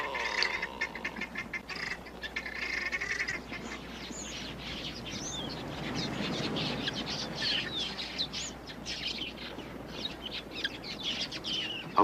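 A flock of quelea birds makes a quick raid on an African waterhole, filling the air with dense, constant chattering and wingbeat flutter at close range with no pause; no one speaks.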